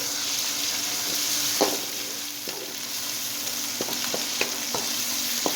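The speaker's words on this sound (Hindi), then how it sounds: "ये भी हम इसमें ऐड करेंगे और इसको भी अच्छी तरह भून लेंगे।" Freshly crushed garlic and ginger frying in masala for a ridge gourd (tori) curry: a steady, close hiss of sizzling oil runs throughout, with occasional scraping stirs and soft clicks on top.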